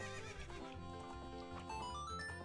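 A horse whinnies in the video game Zelda: Ocarina of Time, a tonal neigh rising over steady game music, with a faint clip-clop of hooves and no talking.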